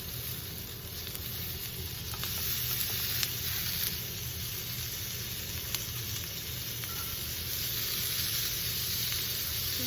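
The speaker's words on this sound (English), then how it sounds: "And then we add a little butter for the sizzle." Chicken fajita with butter sizzles steadily on a hot plate, a continuous close frying hiss with occasional small pops and no voices.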